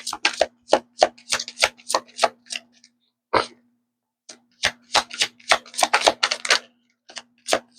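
Tarot cards are shuffled and one is drawn, making rapid crisp flicks and snaps in bursts with short pauses, close by and without talk, under a faint steady hum.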